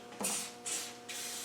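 Three short bursts of aerosol spray as rustproofing fluid is squirted onto screws on a Land Rover 130, close and soft, the last burst held longer, no voices.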